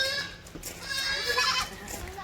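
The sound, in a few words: goat bleating on a goat farm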